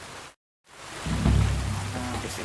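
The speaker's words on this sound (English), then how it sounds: "Pissing down rain again." Steady rain hisses in a medieval video game setting, a dense wash of falling drops that cuts out briefly and then returns, followed by a low rumbling swell like distant thunder.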